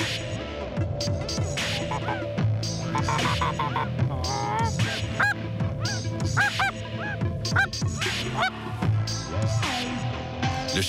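A flock of geese honks repeatedly, calls overlapping in a steady, fairly loud chorus with a low background hum throughout.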